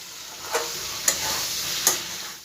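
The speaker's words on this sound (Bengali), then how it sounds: "এবার সবগুলো একসাথে খুব ভালো করে আমি মিশিয়ে নেব" Fried fish and potatoes are stirred together in a pan, a steady soft sizzle of oil running throughout, broken by three brief scraping strokes of the utensil, close and moderately loud with no voices.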